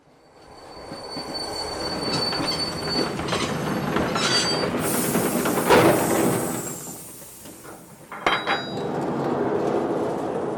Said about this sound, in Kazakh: Поезд тоқтады.